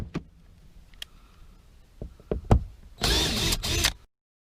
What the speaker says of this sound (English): So I can take the drill and just unscrew all those.